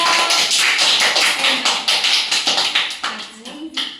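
A group of children clapping their hands together at a celebration of India's Independence Day, a steady patter of many palms at close range with a voice speaking over it.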